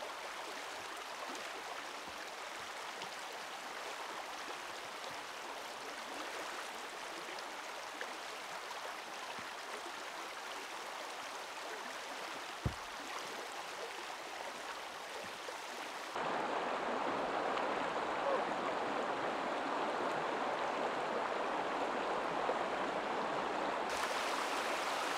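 A river in the Cairngorms of Scotland in winter rushes along with a constant broadband wash of water, steady and close, growing noticeably fuller and louder partway through.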